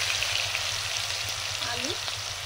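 Bay leaf and whole cumin sizzle in hot oil while Bengali cooking, a loud, close, continuous frying hiss with faint crackles and a low hum beneath.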